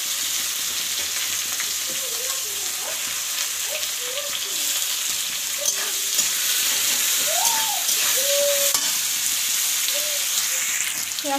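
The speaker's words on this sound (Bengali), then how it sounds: "আর পেঁয়াজটা ভাজার সময় সামান্য একটু লবণ দিয়ে দেবো" Chopped onions and curry leaves frying in hot oil give a steady broadband sizzle with stirring scrapes, close and continuous, with faint tonal sounds in the background and no talk.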